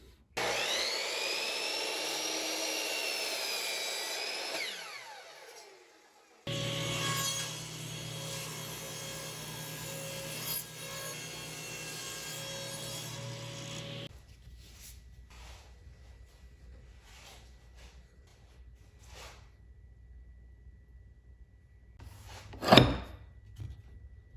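Western red cedar boards are milled, with a loud high machine whine and grinding, then a steady planer-like drone, then quieter scraping, rubbing and a sharp knock near the end.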